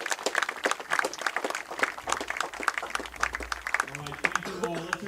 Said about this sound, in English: Let's give Coach Burke another round of applause